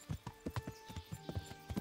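Horse hooves clip-clopping in the medieval game Kingdom Come: Deliverance, a steady run of about a dozen close, crisp hoofbeats in an uneven trotting rhythm, with no talk over them.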